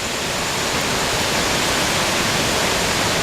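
A deep Himalayan cascade crossed on a rough route, filling the air with a loud, continuous roar of rushing water, steady and unbroken, with no voices.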